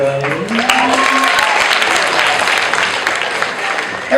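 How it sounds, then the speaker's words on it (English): Crowd applause during a stage hypnosis show, a loud, dense burst of clapping that stays strong throughout, with the tail of a voice at the start. "Give a big round of applause, everybody."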